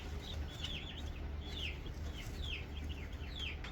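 Young chicks peep steadily in high, repeated chirps against a constant low rumble, moderately close with no voices.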